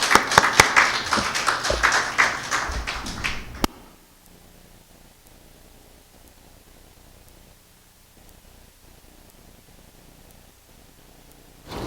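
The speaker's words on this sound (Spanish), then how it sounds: "lo recibimos con un voto de aplauso" A conference audience briefly applauds to welcome engineer David Carhuaz before his talk on seismic design of tailings dams: a few seconds of brisk, fairly loud clapping that cuts off sharply, leaving near silence with faint room hiss.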